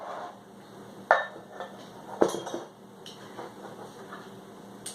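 A spoon clinks and scrapes against a bowl while breakfast ingredients are stirred together with grated coconut, with two sharp knocks standing out over softer scraping.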